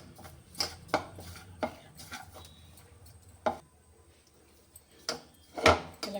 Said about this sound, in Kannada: ಇದನ್ನೆಲ್ಲ ಮೊದಲು ಮಿಕ್ಸ್ ಮಾಡಿಕೊಡುವ.